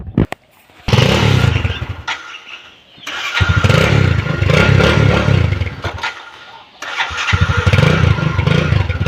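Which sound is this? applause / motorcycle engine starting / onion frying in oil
motorcycle engine starting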